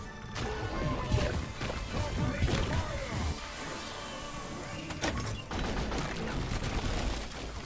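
Loud, booming weapon blasts and crashing impacts hit in separate bursts during Deep Rock Galactic combat with a sludge shotgun build, with a quieter stretch between and faint voices in the background.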